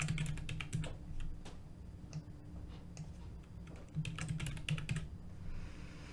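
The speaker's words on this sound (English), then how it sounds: "now that I finished typing" Rapid, irregular clicks of typing on a computer keyboard, close and fairly quiet, with short bursts and brief pauses between keystroke runs.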